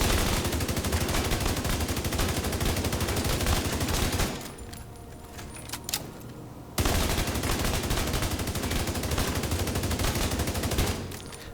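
The Eaglebearer assault rifle fires in The Division 2 in long, rapid automatic bursts. A brief quieter pause in the middle is followed by the rapid fire resuming, loud and close.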